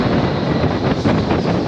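Steady, loud wind buffeting the microphone at a ferry port in Morocco, a continuous roar with gusty fluctuations and no voices.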